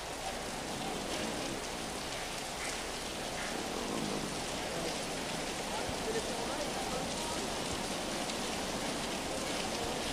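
Steady, continuous rain falls at the flooded Bugaan Spillway in Laurel, Batangas, a dense, even hiss of drops on surfaces that holds at one level throughout, with no distinct voices.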